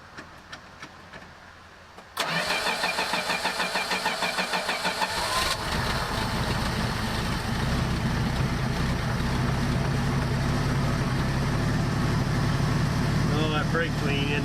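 A 1984 Dodge RAM D100 truck engine cranks briefly, catches with a sudden loud start and then settles into a steady, rumbling idle that continues close by.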